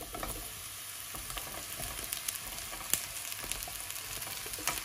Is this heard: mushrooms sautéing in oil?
yes